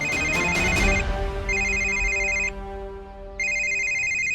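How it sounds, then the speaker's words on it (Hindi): A phone ringtone chimes in repeating electronic bursts with short gaps between them, loud and close. "ये मनोज भी फोन कर करके परेशान कर रहा है।"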